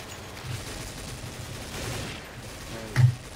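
Gunfire in the video game Counter-Strike: Source sounds as faint, scattered shots beneath a low background, then one louder, closer burst near the end.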